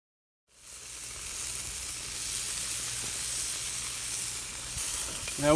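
Onions dropped onto a hot Lodge Sportsman cast iron grill burst into a steady, close hissing sizzle after a brief silence, growing slightly louder and continuing unbroken, with no voices.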